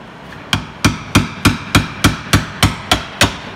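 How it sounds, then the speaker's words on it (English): Ten sharp hammer blows in a steady rhythm strike a stuck flange on a BMW X3 propshaft, each metallic whack close and loud with a brief ringing decay. "So I should get a hammer and a screwdriver, a big chisel bar or something, can get it off."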